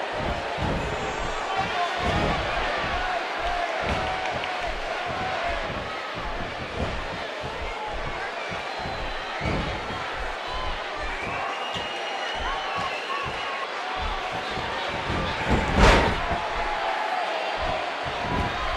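An arena crowd at a WWE 2K15 wrestling match between CM Punk and John Cena: a steady wash of crowd noise and chanting with scattered thuds of bodies hitting the mat, under continuous commentary.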